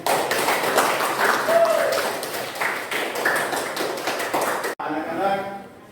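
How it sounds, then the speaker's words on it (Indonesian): Classroom applause in a school lesson, a dense continuous burst of many hands clapping together, fairly loud, with voices mixed in, ending abruptly near the end before quieter chatter. "Jadi tepuk tangan"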